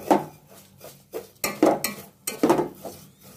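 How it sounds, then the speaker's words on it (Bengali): Vermicelli is stirred and fried in a pan for a sweet dish, with irregular metal spoon scrapes and clinks against the pan, fairly close, over a faint sizzle and with no talking. "আমি সেমাইটা নাড়া দিয়ে নিলাম। এখন আমি এটা 2-3 মিনিট ভেজে নিব।"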